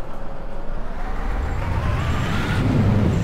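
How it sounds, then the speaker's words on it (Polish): City bus pulling away in the OMSI 2 bus simulator, its engine note rising and whining steadily as it accelerates, a loud continuous drone that builds toward the end. "Bardzo podobają mi się dźwięki w tym autobusie, chociaż no są bardzo głośne"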